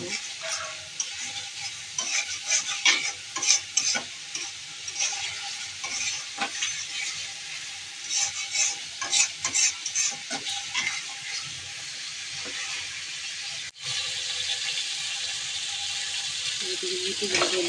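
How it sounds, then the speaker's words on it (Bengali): Onions and spices sautéing in a pan, with steady broadband sizzling throughout and repeated scraping stirs. A brief pause near the end gives way to a louder, denser sizzle. "পেঁয়াজগুলো দেবো মশলাগুলো দিলাম ভালো করে কষিয়ে নেব"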